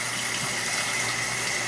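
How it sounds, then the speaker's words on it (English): Hot water gushing steadily into a pot of homemade spaghetti noodles, a continuous close running-water rush with no pauses. "just put more water back into it again, hot water preferably"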